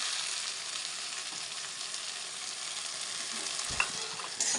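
A fried spice mixture is tipped into a pan of frying eggplant for Bengali shukto. The sizzle is loud and continuous, with scraping stirs and a brief clatter toward the end.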